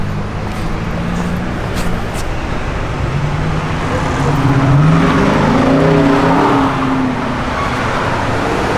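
A 1963 Oldsmobile Dynamic 88 with its original 392 cubic inch engine and an added tri-power unit drives along, giving a loud, close, steady engine hum with road noise that swells slightly midway.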